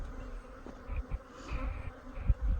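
Honey bees buzz steadily in an open hive during an inspection, a dense close drone with brief louder swells as individual bees pass near.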